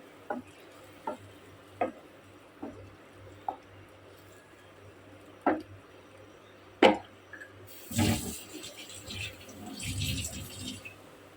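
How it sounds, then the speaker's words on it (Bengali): Water is poured into a pan of spiced, fried-down curry cooked with okra and fish. A few sharp, evenly spaced clicks come first, then a loud rushing hiss of liquid hitting the hot pan swells and lingers near the end. "কষায় জল দিয়ে দিলাম"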